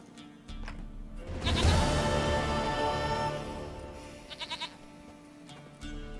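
A goat in The Witcher 3 bleats loudly in one long, wavering cry, followed by a few quieter, shorter bleats, heard alone with no talk.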